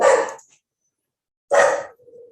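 A dog gives two loud, sharp barks about a second and a half apart, close by, with silence between them.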